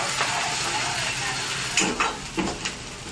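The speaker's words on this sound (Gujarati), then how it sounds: "ડુંગળીનો વઘાર અમે કરી દઈએ છીએ" Chopped onions sizzle in hot oil for a vaghar tempering as a soft, continuous frying hiss, broken by a few scraping stirs of a spoon against the pan.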